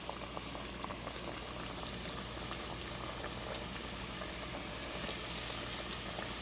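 Walleye fish pieces deep-fry in hot oil, giving a soft, steady bubbling and sizzling with light crackles, fairly quiet and continuous, with no talking.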